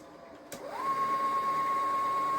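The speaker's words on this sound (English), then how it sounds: "I love the bobbin filling on this machine." A sewing machine winds a bobbin, starting after a sharp click with a rising whir that settles into a steady, fairly quiet hum for the rest of the clip.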